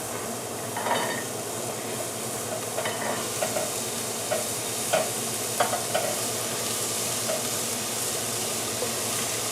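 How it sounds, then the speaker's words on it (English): Chopped chili ingredients dry-frying in a pan with no oil, a low steady sizzle broken by scattered spoon scrapes and light clinks against the pan, fairly quiet and without talk. "we're going to fry these up for about 5 to 10 minutes, depending on how brown you want them"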